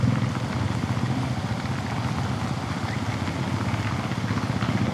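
Steady heavy rain pours down in zero visibility, captured on a DJI Osmo Action 5 Pro action camera as a dense, unbroken hiss of drops with a low rumbling undertone throughout.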